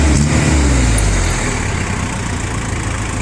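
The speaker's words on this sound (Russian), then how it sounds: "На педаль газа трактор развивается максимально хорошо" A Yanmar FX26D tractor engine roars loudly at high revs, then the pitch drops and it settles into a steadier rumble, close by.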